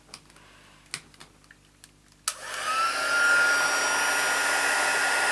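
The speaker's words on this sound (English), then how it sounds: "You can hear the heat gun." A few clicks and taps, then a heat gun switches on and blows with a loud, steady whooshing roar and a faint whine that continues.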